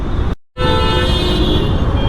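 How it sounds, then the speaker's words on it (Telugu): A loud, sustained car horn blares up close over heavy-traffic street noise, briefly cut off before sounding again steadily. "వీడొక్కడ హార్న్లు కొడుతూనే ఉన్నాడు."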